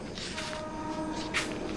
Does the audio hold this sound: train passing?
yes